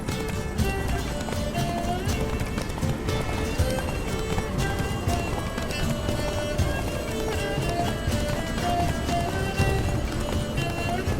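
A horse gallops in The Witcher 3 video game, rapid rhythmic hoofbeats running continuously and close under a dense bed of game music and ambience.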